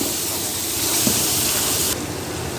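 Cumin seeds hit hot frying masala for beef masala boti, giving a loud, steady, close hiss of sizzling oil that eases slightly toward the end, with no talking over it.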